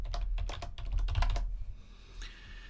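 Code typed on a computer keyboard: a quick burst of close, crisp key clicks for about a second and a half, then a quieter pause with one faint tap.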